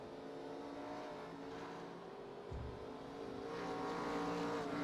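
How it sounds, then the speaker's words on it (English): Race cars circle Langley Speedway during a racing series event, engines droning and revving in a continuous far-off roar that swells toward the end, with no talk over it. "Well, they kind of look like an ARCA car"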